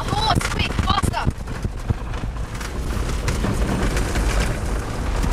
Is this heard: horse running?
yes